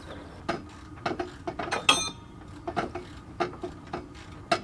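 A ratchet wrench clicks in short bursts of rapid ratcheting as bolts on a van's rebuilt leaf-spring suspension are checked, the clicks close and moderately loud against a quiet background.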